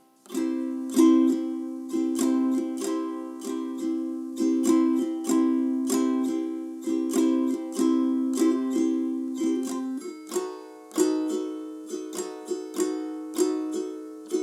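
A ukulele is strummed in a steady rhythmic pattern, ringing chords changing about halfway through, played close and clear with no voices.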